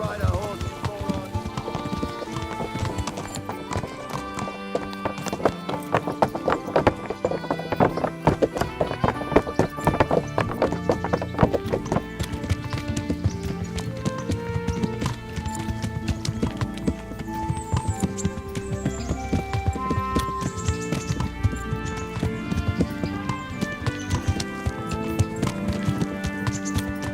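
Galloping horse hooves in the medieval game Kingdom Come Deliverance keep up a quick clip-clop throughout, with a whinny, under a loud orchestral score and spoken dialogue.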